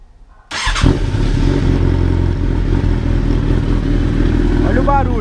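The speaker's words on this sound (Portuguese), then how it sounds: "Vocês já viram aí que o som dessa ponteira na Bandit fica muito louco" Suzuki Bandit 600cc motorcycle engine heard through an aftermarket exhaust tip, starting abruptly and settling into a loud, close, rumbling idle.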